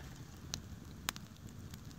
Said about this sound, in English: Now we got a big campfire.